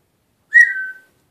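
Brief, bright whistle from an African grey parrot, a single short note about half a second long that tails off slightly, close and clear in a quiet room.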